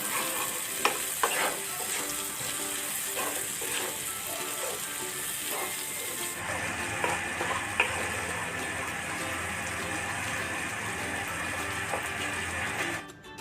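Chopped green chili and tomato frying in a pan with spices for aloo dum, a steady close sizzle with scattered stirring clicks and scrapes; the hiss drops and changes partway through as the mixture settles.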